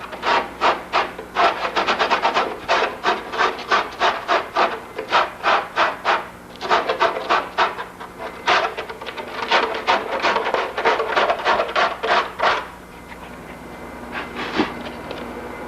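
Foam of an aircraft wing kit is sanded by hand in a close series of rhythmic rasping strokes, pausing briefly, then resuming before fading to a lighter scrape.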